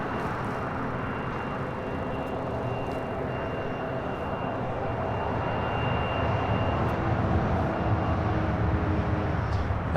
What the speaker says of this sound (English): That is Latam Airlines Flight 8087 heading to Sao Paulo there in Brazil. 787-9 Dreamliner.